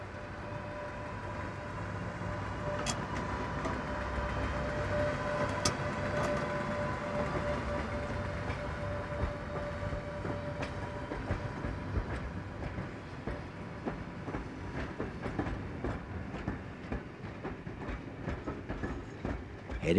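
A train runs on the West Coast Main Line, the 1847 Lancaster and Carlisle Railway route over Shap in the Lake District. A steady rumble and rattle of wheels carries throughout, with rhythmic clicks over the rail joints and a sustained tonal whine.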